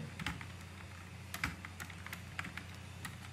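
Bangla text being typed on a computer keyboard, a close run of light, irregular key clicks with short pauses between bursts, quiet and with no talking.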